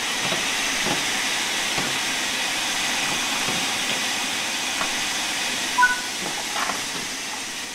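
A steam locomotive's large ejector hisses steadily in Train Sim World 5, a continuous airy rush with a few faint clicks and a brief bump near the end, with no voices.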